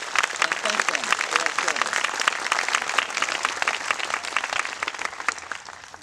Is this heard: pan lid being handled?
no